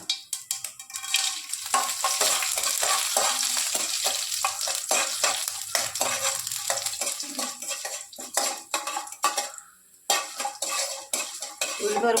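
Urad dal frying in hot oil with mustard seeds while a metal spoon stirs and scrapes the pan. The sizzle runs throughout, and rapid clinks and scrapes sound loud and close.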